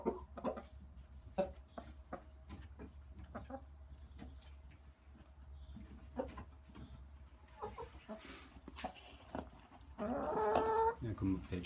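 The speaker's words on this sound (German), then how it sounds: "Hühner im Stall und der Hahn kräht." Chickens in a coop cluck softly and intermittently close by, with scattered pecking and rustling, a low hum underneath and a louder burst of clucking near the end.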